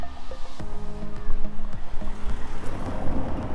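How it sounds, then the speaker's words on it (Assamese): Bega, a small river in Germany, flows with a steady broadband wash of water. Wind gusts buffet the microphone over it, and a few faint knocks are scattered through the noise. "বেগা নদীখন"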